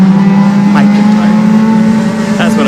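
Stock-class race cars battle on a NASCAR Division III enduro track, a steady loud engine drone holding throughout with faint passing swells, while a commentator talks over it.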